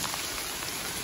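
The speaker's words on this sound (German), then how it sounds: "So, inzwischen hagelt's." Hail falling outdoors by a man-made ditch and mountain-bike jump, a dense, steady hiss of countless small impacts all around, with no voices.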